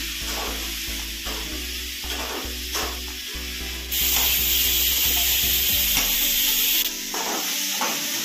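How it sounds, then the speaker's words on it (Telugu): Tomatoes, tamarind and bottle gourd pieces fry in a hot pan for a gourd chutney, giving a steady loud sizzle with repeated scraping stirs, and the hiss swells louder midway before easing back. "బాగా వేగిపోయిన టమాటాలు సొరకాయ ముక్కలు వేసుకున్నాం"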